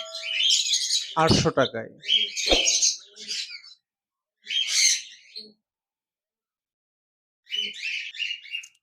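A pair of lutino red-eye budgerigars in a cage chirp and chatter in bright bursts, alternating with brief silences, while someone speaks over them at one point.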